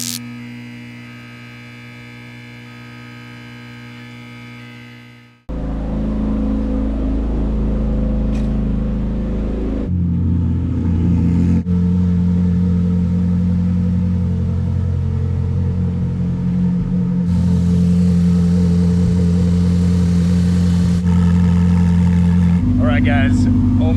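A Ferrari 488 Challenge car engine gives a low, steady, droning rumble that grows loud after a quieter humming start and holds without clear revving peaks, while a person talks over it.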